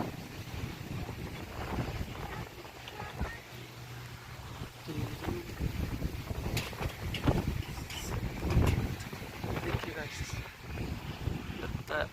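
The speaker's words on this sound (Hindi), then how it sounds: "बहुत तेज़ हवा चल रही है।" Strong gusting wind roars against the microphone as weather turns before a heavy rainstorm, a broadband rushing that swells and fades across the whole stretch while a person talks over it.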